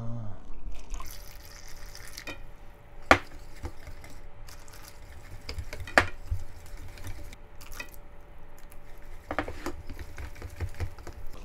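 Water trickles and splashes softly into domestic 100% buckwheat flour as dough is kneaded by hand in a kitchen, faint and close, with a couple of sharp knocks and no talk.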